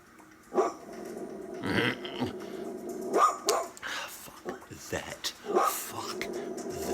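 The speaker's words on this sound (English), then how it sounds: "She starts growling and barking more as she gazes upwards." A dog growls and barks in short bursts while gazing upward at something above a television, with people talking in the room.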